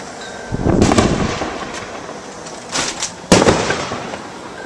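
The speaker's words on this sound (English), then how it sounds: "Someone is lighting off mortars behind my house." Firework mortars launched outdoors behind a house, bursting in three loud, booming shots with crackling tails, two close together early and another pair a couple of seconds later, with no talk.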